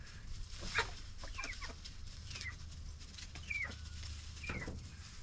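Chickens clucking as they peck at food, several short soft clucks and chirps scattered over a few seconds against a quiet outdoor background.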